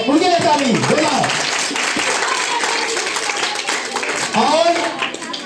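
Audience applause at a primary school annual function, a dense rattle of many hands clapping, fairly loud and continuous, with a voice speaking over it on a PA system.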